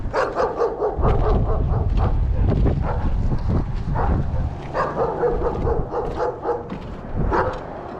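A small puppy barks in quick, excited yips and bow-wows, close by. The barks come in short bursts with a few whimpers over an indoor house setting.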